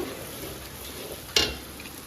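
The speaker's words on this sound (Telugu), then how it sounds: "వేసి బాగానే ఫ్రై చేస్తున్నాను నేను" Soya beans frying in a pan with turmeric, coriander powder and cumin powder, a soft steady sizzle broken by one sharp clink of a spoon against the pan.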